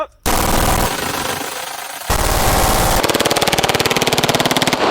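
A fully automatic Glock machine pistol fires in long, loud, continuous bursts. After a brief pause the rapid, evenly spaced shots resume and run to the end with no speech.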